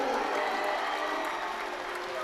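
At a girls' high school basketball district game, the crowd chants the player name Cooper in a loud, sustained roar from many voices that fills the gym without a break.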